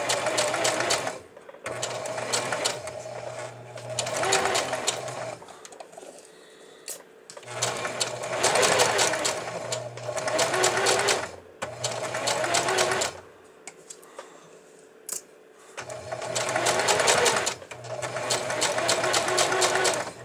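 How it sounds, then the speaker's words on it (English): Sewing machine stitching stretch satin lining fabric, running in several steady bursts of a few seconds each with short pauses between, close and clear with no talking. "And obviously you want to take out your needles as you go so that you don't break your sewing needle."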